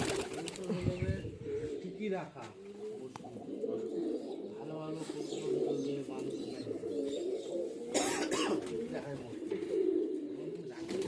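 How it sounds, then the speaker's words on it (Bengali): Pigeons coo steadily throughout, a layered murmur of low rolling calls close by, with voices talking over them at times. "প্রচুর কবুতর আছে"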